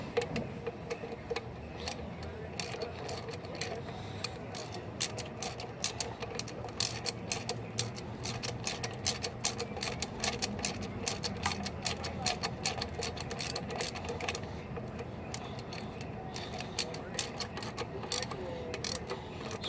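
A ratchet clicks in rapid, steady runs as it tightens the oil adapter bolts of a Sohn oil adapter kit on a Mazda RX-8 to a low torque, and a voice talks faintly in the background.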